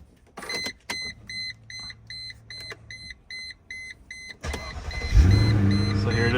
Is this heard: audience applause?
no